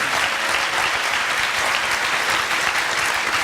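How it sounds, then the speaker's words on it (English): An audience at a Carnatic music concert featuring Western flute breaks into applause, a loud, dense burst of clapping sustained evenly throughout. "Can we have another round of applause"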